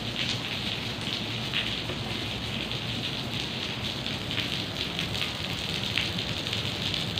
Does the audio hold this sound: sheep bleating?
no